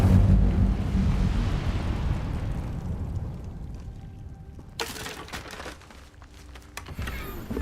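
Incendio fire spell cast in Hogwarts Legacy, a loud burst of whooshing flame that surges at once and then fades over several seconds, with a second sharp magical crackle near the end.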